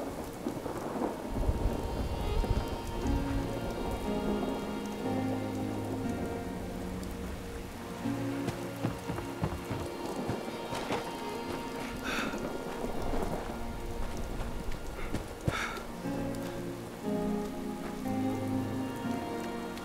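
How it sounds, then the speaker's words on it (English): Steady rain patters on surfaces in the Fallout 76 video game, while low thunder rolls and rumbles through the downpour several times. "Rain."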